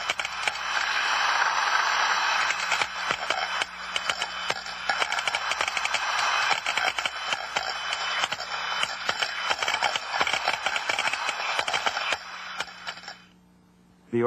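A floating thermostatic (F&T) steam trap passes a continuous, modulating flow, heard as a loud, steady broadband hiss with fluctuating crackle and rushing texture throughout, cutting off abruptly near the end.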